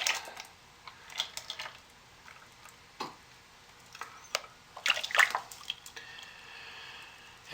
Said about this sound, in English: So I'm going to just pour roughly half and half.